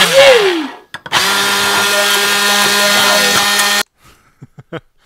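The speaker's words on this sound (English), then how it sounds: "we used our immersion blender to mix it up" An immersion blender mixes a hot liquid, a loud steady motor whir lasting a few seconds that cuts off abruptly, with brief clatter and a short voice before and after.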